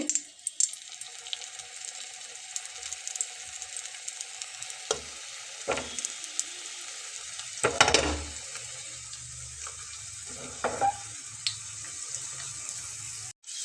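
Chicken pieces frying in hot oil, a steady crackling sizzle with intermittent clatters and a louder burst of bubbling when pieces are dropped in.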